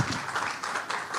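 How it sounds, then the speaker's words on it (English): Audience applause at an anniversary industry event honoring a panelist, a dense burst of clapping filling the room for just over a second, steady and fairly loud with no clear pauses. "So give a big round of applause for him."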